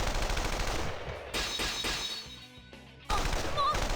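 Heavy artillery gunfire in the Persona 4 Arena Ultimax fighting game comes in loud, rapid bursts, drops back briefly in the middle, then slams back in at full force.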